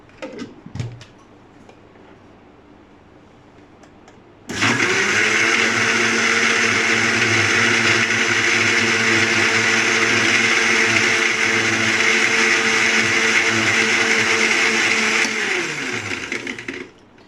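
A blender whirs loud and steady for about twelve seconds, crushing ice into a sweet lassi with sugar, starting abruptly and cutting off at the end after a few quieter clinks before it kicks in.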